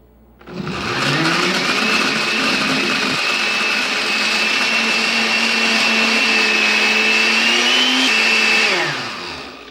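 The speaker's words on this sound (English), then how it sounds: "Now letting the blender run for a good amount of time" A blender making a chocolate smoothie whirs loudly and steadily for several seconds after spinning up, its motor pitch shifting slightly before winding down.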